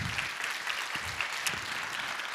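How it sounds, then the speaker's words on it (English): A lecture-hall audience applauds designer Paula Scher, steady dense clapping from many hands throughout, close and even, with no one speaking over it. "Let's have a big round of applause for Paula Scher"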